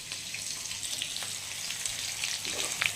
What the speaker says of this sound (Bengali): চিংড়িগুলো বেশি ভাজবো না, তেলে দিয়ে দিয়েছি